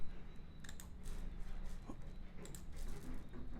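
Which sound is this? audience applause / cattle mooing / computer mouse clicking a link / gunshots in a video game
computer mouse clicking a link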